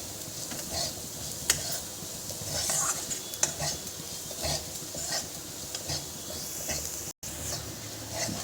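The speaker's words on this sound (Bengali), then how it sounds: "1 চামচ বেসন দিয়ে আমি ভালো করে একটু ভেজে দেবো" Gram flour being stir-fried in a pan, heard as quiet, repeated scraping strokes over a faint, steady sizzle with an occasional sharper tap.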